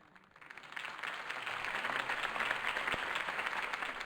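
Crowd applause from the Batman Telltale video game rises after a campaign speech and holds as a steady, dense wash of clapping throughout.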